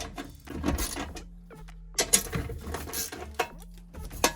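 Small 10mm bolts being loosened and taken off a metal plate on a 1993-2001 Subaru Impreza, with close ratcheting clicks, metallic taps and short tool rattles in quick irregular bursts.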